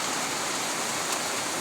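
Heavy rain pours down steadily in a dense, continuous hiss, loud and unbroken across the short stretch, with no voices.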